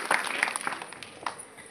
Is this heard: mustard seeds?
no